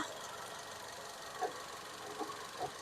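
A 2013 Toyota Vios 1.5E sedan engine idles with a quiet, steady hum and soft faint ticking, heard alone without talk.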